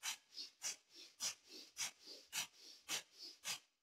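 Rapid, forceful pranayama breathing with audible exhalations: about a dozen quick, evenly paced breaths, close and fairly soft, with no talking.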